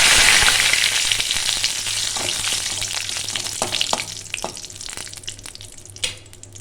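Black cumin, two chillies and a bay leaf hit hot oil for a Bengali bata fish curry, giving a loud, steady sizzle that eases slightly over time, with scattered spoon scrapes and small pops near the end.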